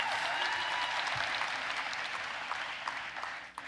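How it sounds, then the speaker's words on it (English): Sustained audience applause at a center-stage tech conference session, steady and dense throughout, slightly tapering near the end with no talking over it. "Give yourself a round of applause, baby."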